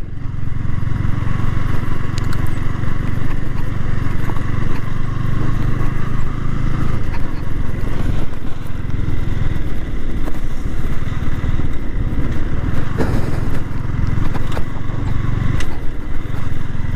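A motorcycle rides through Boro Taleshwar, a rural village in Bamna, its engine droning loud and close throughout with steady wind rush and occasional rattles.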